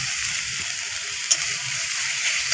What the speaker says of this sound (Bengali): পেঁয়াজটা খুব সুন্দর করে ভাজবো যাতে পেঁয়াজের গন্ধটা না পড়ে